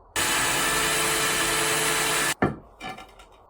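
Power drill boring a hole in wood for a dowel rod, a loud steady whine lasting about two seconds that cuts off abruptly, followed by a few brief clattering knocks.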